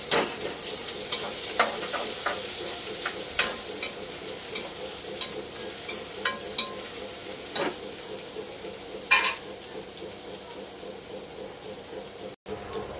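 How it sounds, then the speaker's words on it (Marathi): Tomatoes for an egg curry fry in a hot pan, a soft steady sizzle broken by repeated sharp scrapes and clinks of a spoon stirring against the pan, up close with no speech. "आता आपण याच्यामध्ये टाकूया टमाटर"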